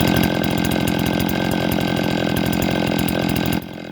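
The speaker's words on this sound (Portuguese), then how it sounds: "Percebemos que o motor está respondendo." A Stihl brushcutter's small two-stroke engine runs close and loud at a high steady buzz while its carburetor is adjusted, the note dropping abruptly near the end.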